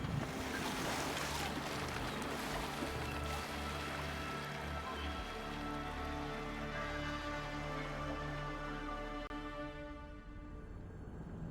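A sailing ship cuts through ocean waves in Assassin's Creed Valhalla, Wrath of the Druids expansion, with steady rushing surf, water washing along the hull and wind, continuous and fairly close for the whole stretch.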